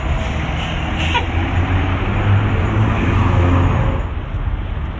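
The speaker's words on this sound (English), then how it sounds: "Ooh, a fire truck" A fire truck passes on a street as a loud, steady engine rumble with broadband road noise that fades slightly toward the end.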